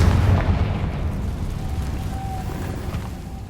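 A Confringo spell explosion in Hogwarts Legacy: a loud, low boom opens, then a rumbling blast tail slowly fades away, with no voices.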